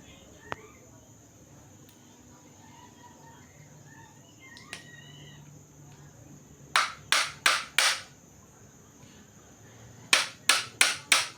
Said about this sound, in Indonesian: kita akan melepas pen dengan cara memukul baut M4 ke satu arah sampai pennya terlepas seperti ini